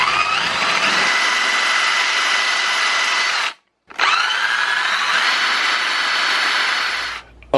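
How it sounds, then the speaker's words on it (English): Power drill with a countersink bit boring into pre-drilled holes in reclaimed wood lumber, two loud, steady high-pitched whirring runs separated by a brief silent pause, close and uninterrupted by talk. "I'm going to take out my countersink bit. I'm going to countersink these"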